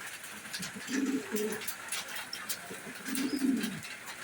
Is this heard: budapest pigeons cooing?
yes